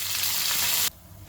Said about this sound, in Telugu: సో ఇందులో ఇప్పుడు కరివేపాకు వేసుకున్నాము.